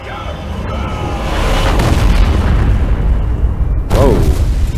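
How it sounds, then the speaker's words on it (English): Heavy cannon fire from a battleship in the video game Valkyria Chronicles 4, with loud booming blasts rolling together into a sustained roar, ending in a sharp burst near the end. "Holy shit! Cannon fire!"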